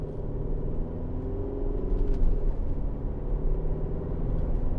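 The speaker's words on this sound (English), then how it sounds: "there's another car coming now" Another car passing on the road: a low engine and tyre rumble that swells and shifts gently as it goes by, moderately close, with no one speaking.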